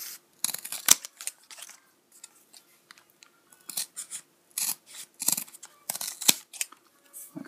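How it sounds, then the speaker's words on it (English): Scissors cut through cardboard with a series of close, crisp snipping crunches in irregular bursts, some louder than others, separated by short pauses. "And I'm just going to cut the parts that we no longer need."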